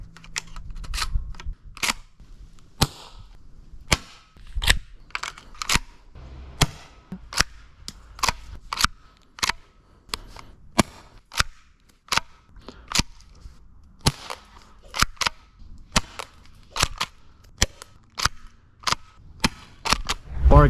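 A Tokyo Marui airsoft shotgun fires over and over with sharp, close snapping cracks in an irregular rhythm, each shot followed by the light clatter of an ejected shell.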